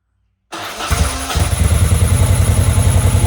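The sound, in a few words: 1990 Moto Guzzi California III motorcycle engine starting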